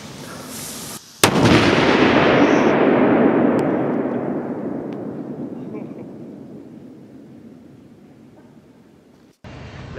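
A Cobra 8 firework detonates in one huge, close blast, followed by a long, slowly fading rumble and echo lasting several seconds, with a brief outdoor noise before and after.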